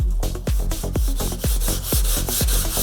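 A well-worn gray Scotch-Brite pad scrubs lightly over crystal paint in quick, regular back-and-forth rubbing strokes, close and fairly loud, with no talking.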